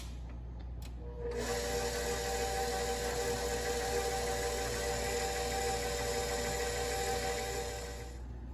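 A stand mixer with a paddle blends a cup of nuts into cake batter, its motor whirring in a steady, close drone that starts after a second and runs evenly for about seven seconds with no talking.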